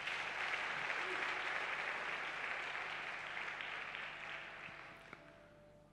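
A church congregation at a Sunday worship service applauds steadily and loudly, and the clapping slowly fades toward the end.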